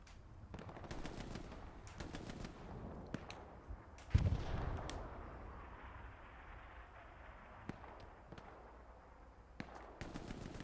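Incoming rocket in Hell Let Loose, a single heavy impact landing midway through distant crackling gunfire and scattered shots on a quiet battlefield.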